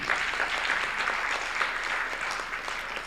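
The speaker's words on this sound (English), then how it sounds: "Why don't you clap for these great people?" Sustained applause from an assembly audience honouring members of parliament, dense and steady throughout, with no talk over it.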